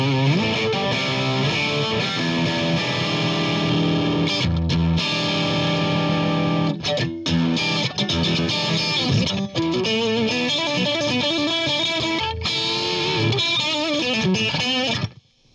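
Overdriven electric guitar played through a Wangs Mini 5-watt hand-soldered tweed amp, gritty sustained chords and riffs ringing loud and close, ending in a sudden cutoff.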